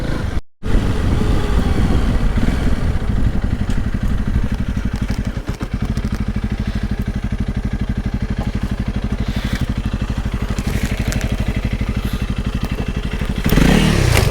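Steady engine drone of a Honda CRF300 Rally motorcycle ridden along back lanes, loud and continuous with rattling and wind buffeting throughout.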